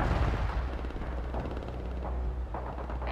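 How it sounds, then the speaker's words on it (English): Gunfire in World in Conflict, a Soviet Assault battle, with heavy rumbling shots and blasts layered into a dense, continuous low roar of combat that swells again at the very end. "We're being engaged here. Returning fire."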